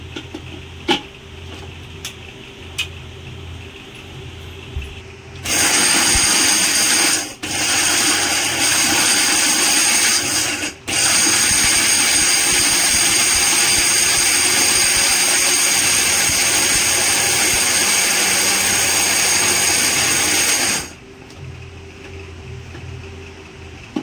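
An electric kitchen grinder pulverises cardamom, sugar and dry ginger for a festival sweet powder, a loud continuous whirring roar running about fifteen seconds with two brief cut-outs, after light clicks and handling sounds, no talk.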